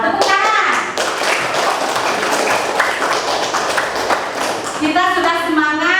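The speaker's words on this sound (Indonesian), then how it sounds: "Tepuk tangan." Children clapping together in a steady burst of rapid handclaps, close and loud, with a voice speaking briefly at the start and end.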